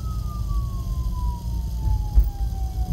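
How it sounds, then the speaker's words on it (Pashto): An ambulance siren sounds on the road ahead during a trip through Mardan, KPK, Pakistan: a single steady tone that slowly slides lower over heavy, rumbling road and vehicle noise, moderately loud and without talk. "مخکې امبولانس روان ده"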